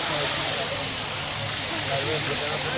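A decorative fountain at the Sarinda Sobari resort in Mymensingh, Bangladesh, splashes in a continuous, even wash of falling water heard up close.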